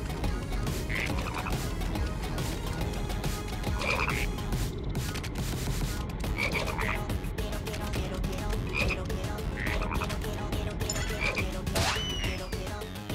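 Frogs croak repeatedly through a level of Final Fantasy 7 Rebirth, a steady busy chorus of loud, close croaks over a dense continuous game backdrop, with no talking.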